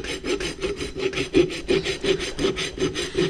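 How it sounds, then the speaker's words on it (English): A farrier's rasp works the heel and bar of a pony's hoof during a barefoot maintenance trim, a close, steady series of rough scraping strokes in even rhythm, with no voices. "I'm rasping this bar at the same time"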